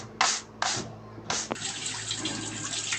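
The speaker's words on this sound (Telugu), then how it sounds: "ఎక్కువ వాటర్ ఫోర్స్ పెట్టేసి క్లీన్ చేస్తున్నాను" Running tap water gushes in three short bursts and then flows steadily at strong force, close by, while dirty anklets are washed under it; no talking.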